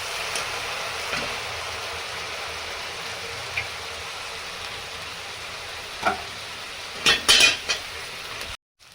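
Onion paste frying and being stirred in a pan with a steady sizzle, a few utensil scrapes and clinks near the end, close and moderately loud.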